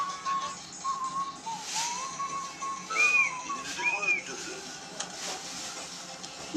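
Several short, high whistle toots sound over a background of talking, some rising and falling in pitch.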